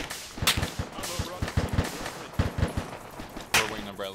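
Gunfire in a military shooter video game pops in quick irregular bursts of sharp shots, fairly close, with a couple of louder reports standing out.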